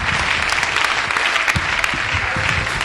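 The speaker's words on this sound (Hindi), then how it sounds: "जोरदार तालियां हमारे सभी रेड क्लब मेंबर्स के लिए।" Sustained applause fills a hall as an audience claps loudly for club members coming onto a stage, a dense continuous patter with a few sharper claps standing out throughout.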